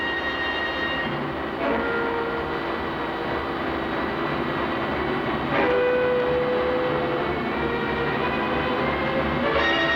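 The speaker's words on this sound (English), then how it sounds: "Caro had started the press." Heavy mechanical press in a radio drama, starting up as a continuous loud grinding machine drone with clanks at intervals and a low rumble, with no talking.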